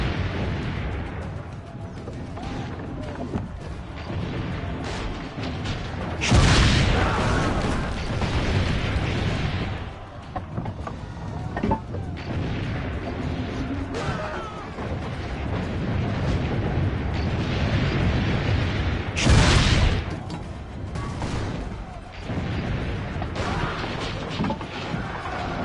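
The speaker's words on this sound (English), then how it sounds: "Keep loading the cannon!" Cannon fire in Assassin's Creed Brotherhood: two heavy booming blasts several seconds apart stand out over a busy bed of battle noise, rumble and clatter.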